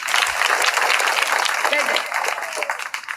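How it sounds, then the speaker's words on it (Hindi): Classroom of schoolchildren clapping together, a dense, steady burst of applause from a room full of students that carries on for a few seconds before starting to thin out. "तालियां।"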